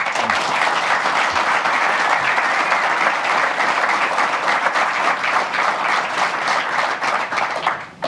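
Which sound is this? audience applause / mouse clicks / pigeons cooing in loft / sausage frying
audience applause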